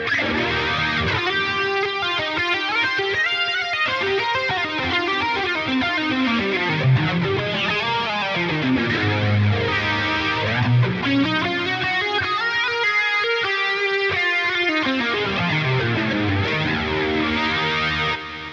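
Electric guitar through a Line 6 POD Go playing chords and melodic lines with a shimmering, warbling chorus effect and some grit, continuous and fairly loud, no voices.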